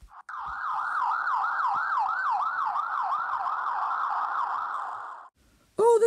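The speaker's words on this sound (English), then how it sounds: "Oh, there's a police car!" Animated police car siren wailing in a steady rising-and-falling cycle for about five seconds, loud and close, then cutting off before a brief final burst.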